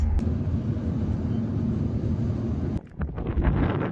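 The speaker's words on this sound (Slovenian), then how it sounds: "zdaj imamo pa veter" Strong gusting wind buffets the microphone outdoors beside a Mercedes car, a loud steady broadband roar that briefly drops out near the end before surging back.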